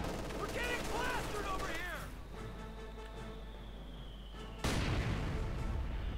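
In the Company of Heroes 2 strategy game, S-mines go off, giving a sharp explosive burst at the start and another sudden blast near the end, set against a low rumbling battlefield background while a voice talks early on.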